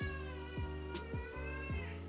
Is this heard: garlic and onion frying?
no